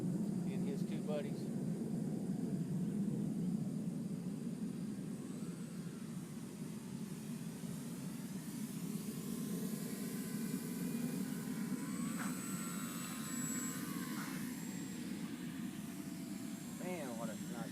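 A Multiplex FunCub RC model airplane flies at an RC field, its electric motor a steady whine that shifts pitch as it passes, heard at a distance under constant outdoor noise.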